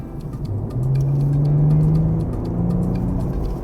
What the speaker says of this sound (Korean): 지금 60km로 정도 달리고 있는데 가속을 한번 해보겠습니다.